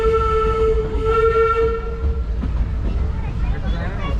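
Disneyland Railroad train rolling along its rails with a steady low rumble and a sustained whistle tone early on, fading as the run continues; a voice is faintly present underneath.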